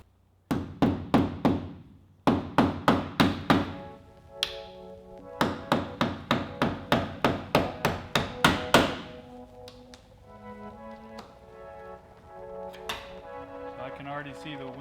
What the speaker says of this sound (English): I did this first window with a flathead screwdriver and a mallet. I'm gonna start this one out this way